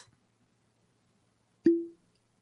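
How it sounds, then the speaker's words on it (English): A bottle of High West Double Rye whiskey is opened with a single crisp pop and a short, resonant ringing tail, close and clear against near silence. "And that is the sound of me opening up a High West Double Rye whiskey."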